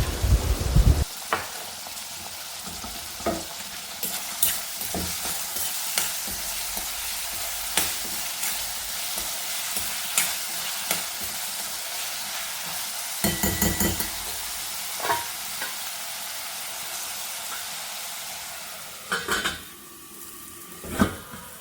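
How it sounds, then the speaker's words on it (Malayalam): Grated coconut stirred and roasted in a pan while making theeyal, a steady close scrape and soft sizzle with repeated spoon taps against the pan throughout, no talking. "അപ്പോൾ നമുക്ക് പെട്ടെന്ന് തേങ്ങ മൂപ്പിച്ചെടുക്കാൻ പറ്റും"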